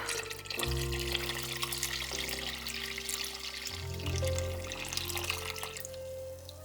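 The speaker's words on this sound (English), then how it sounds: "what we're gonna do is add some water." Water streams steadily into a pot of tonkotsu ramen broth, a continuous splashing pour with a low ringing hum underneath, close and fairly loud throughout.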